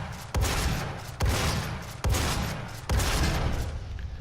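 Four heavy gunshots blast at a barricade in the Doom SnapMap game, evenly spaced under a second apart, each booming hit trailing off in a decaying rumble.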